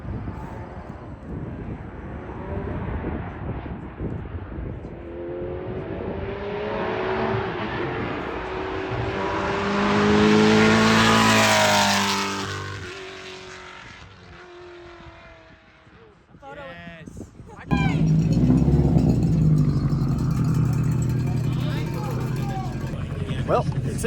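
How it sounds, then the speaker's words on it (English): A Porsche race car on a mountain hill climb approaches with a rising engine howl that peaks loudly as it passes, then fades with shifting pitch before a sudden burst of louder roaring noise. "The last car ran, and unfortunately, it was a Porsche."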